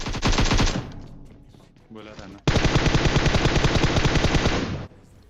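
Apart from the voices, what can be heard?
automatic gunfire in video game PUBG Mobile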